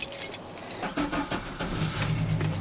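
Keys jangle as a truck is started, then a crank and the engine catching into a low, steady idle nearby, with the rumble building toward the end.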